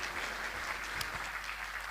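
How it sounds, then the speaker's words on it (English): Audience applause at a Diwali festival at a Hindu temple, a continuous wash of clapping from the crowd, steady and fairly full across the short stretch. "Once again, a big round of applause to Hare Nishkinchana."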